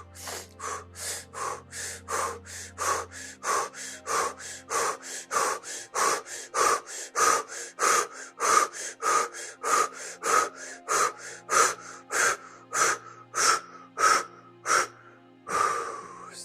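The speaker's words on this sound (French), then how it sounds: "je vais demander de faire cette respiration très rapide en même temps que moi." Very rapid, forceful breaths in a breathing exercise during a hypnosis session, about two sharp huffs per second in a steady rhythm for around fifteen seconds, close and loud with no talking.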